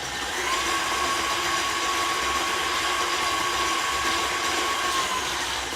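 An electric mixer whirs steadily through chocolate chip cookie batter, a loud, continuous motor drone with a faint high whine that holds unchanged throughout, no voices.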